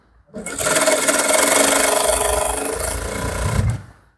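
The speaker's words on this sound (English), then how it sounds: "So just sew it down from here." An electric sewing machine runs fast, stitching Ankara fabric pants. It starts abruptly, keeps up a loud, steady mechanical whir for about three seconds, then stops cleanly, with no voices.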